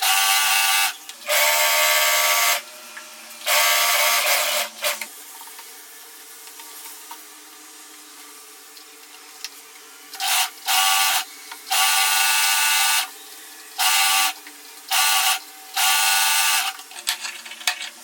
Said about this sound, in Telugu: మళ్ళీ పైనుంచి లైనింగ్ పీస్ని స్టిచ్ చేసుకుంటూ వచ్చేసేయాలి